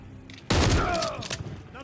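A loud room breach in the Call of Duty Modern Warfare III campaign: a sudden blast opens a burst of close gunfire that rings on through a dense, noisy stretch, with voices shouting over the chaos.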